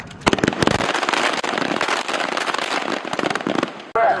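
Rapid gunfire from Marines on a rifle and pistol drill at Camp Lejeune rattles in loud, overlapping volleys of sharp cracks. It is a dense, near barrage that keeps going almost without a break, then cuts off just before the end.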